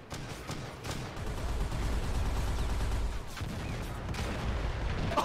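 Arma 3 battle in a Warhammer 40K setting: dense, continuous rumbling gunfire and explosions in the distance, including grenade blasts, forming a fairly faint, steady roar of combat.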